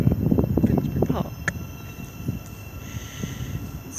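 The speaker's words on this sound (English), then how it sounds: "first time train spotting in Finsbury Park." Train passing at Finsbury Park station, London, heard as a continuous low rumble with rattling wheel noise, loudest at first and easing off, with wind buffeting the microphone and a voice talking over it.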